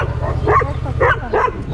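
Several dogs barking and whimpering outdoors in summer; three short, close bursts of yelping barks over a steady low hum, with people talking nearby.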